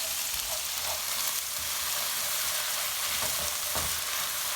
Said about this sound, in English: I want to give it a good fry